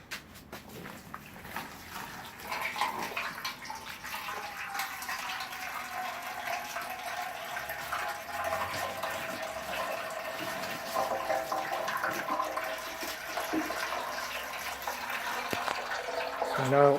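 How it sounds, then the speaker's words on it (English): Water poured into a drainage channel of a raised vegetable planter built from scrap wood, a steady close gushing and trickling flow lasting throughout, with a person talking faintly. "so now all the extra water that the plants don't use up will go down the hose into the channel and out into a bucket."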